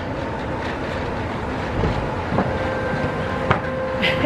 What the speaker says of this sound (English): And there's the monorail right there.